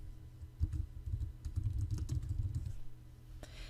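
Typing on a computer keyboard while working on a Google Drive document: quiet, close, irregular key clicks in a continuous patter for a few seconds, with no speech.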